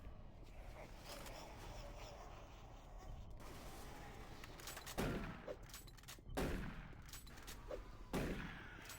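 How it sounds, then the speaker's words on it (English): Gunfire in Doom 3 on Veteran difficulty sounds as a few sharp bursts over a dense, rumbling game soundscape, fairly faint and spaced several seconds apart. "I really missed every shot there."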